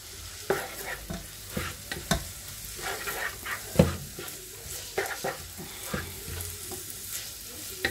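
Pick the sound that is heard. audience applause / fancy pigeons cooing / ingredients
ingredients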